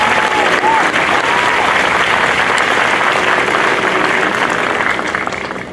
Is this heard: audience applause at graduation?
yes